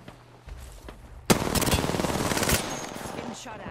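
Gunfire in the Apex Legends shooter game, with a single shot followed by a loud, rapid burst of automatic fire lasting about a second, then a rattling stream of hits and quieter shots trailing off.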